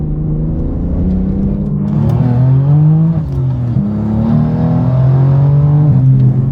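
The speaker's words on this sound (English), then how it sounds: "all turbo noise" BMW G80 M3 pulling hard in third gear in quiet mode, heard from inside the car: a loud, steady engine drone that rises in pitch as it accelerates, with a brief shift dip and turbo whir over the engine.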